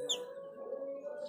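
A faint bird calls indoors as if caught somewhere, giving a steady tonal cooing note with a few brief high chirps at the start and end.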